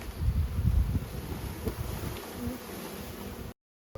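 Honeybees buzzing as they are shaken out of a package into a hive, a steady close-up hum with rustling and bumping underneath, cut off briefly near the end.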